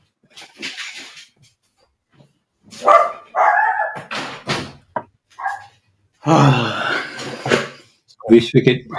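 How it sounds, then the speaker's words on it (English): A house dog barks a few times as it is let outside, with a door sound and a talking voice mixed in, the barks close and loud between speech. "I'm going to let that dog out of the house."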